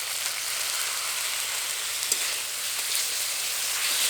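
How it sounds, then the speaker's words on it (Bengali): Vegetables and spices hiss in a pan on a village cooking fire as a splash of water goes in, a steady broadband sizzle with faint scraping stirs, no talking. "মশলার সাথে সবজিগুলো নাড়তে নাড়তেই একটুখানি জল দিয়ে দেবো।"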